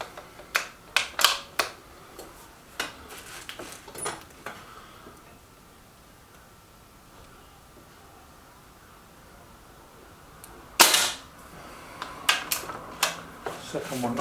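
Air rifle shots from an Artemis M11 .22 firing RWS Super Field pellets, several short sharp snaps and clicks scattered over a quiet outdoor background, with one louder crack midway.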